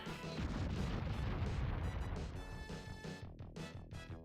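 A massive explosion blows up the entire fighting ring in the Dragon Ball Z Super Gokuden video game: a loud, dense roaring blast sustained for a couple of seconds, then breaking into crackling bursts as it fades.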